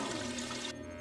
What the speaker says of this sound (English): When you're ready to eat, Just add water.